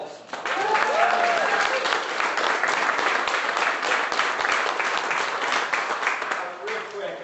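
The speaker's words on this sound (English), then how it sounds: "Big round of applause for Erik Paulsen" A Republican fundraiser audience applauds congressman Erik Paulsen: many hands clapping loudly and steadily for several seconds, with some voices calling out underneath before the ovation eases toward the end.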